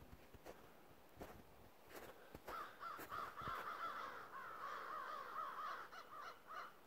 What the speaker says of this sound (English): there's a bunch of crows. You can hear them.